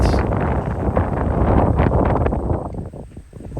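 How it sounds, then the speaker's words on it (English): Strong wind buffets the microphone on an outdoor disc golf course at Double Horseshoe Farm, a loud rumbling roar with gusty rustle that swells and then eases slightly toward the end. "With wind as powerful as this, you really don't know if it's just going to suck the air out from underneath the disc"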